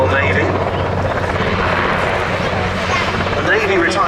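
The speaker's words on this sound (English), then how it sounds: "Wessex was used as a search and rescue helicopter by both the RAF and" A Westland Wessex search-and-rescue helicopter in Royal Navy service flies at a Duxford air display, its loud rotor chop and turbine roar steady and close throughout.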